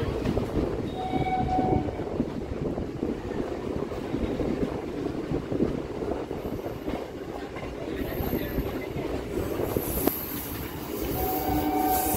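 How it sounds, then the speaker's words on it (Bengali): A Tarakeswar–Goghat local passenger train rolls out on time from a station platform, a steady loud rumble of wheels and carriages with faint clatter and brief high squeals throughout. "রাইট টাইমে ছেড়ে দিল ট্রেন।"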